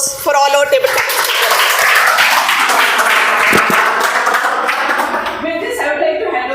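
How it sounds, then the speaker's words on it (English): An audience claps for table topics speakers at a Toastmasters meeting, a dense round of applause filling the room from start to finish, with a voice speaking over the start. "Maybe have a big round of applause for all our table topics."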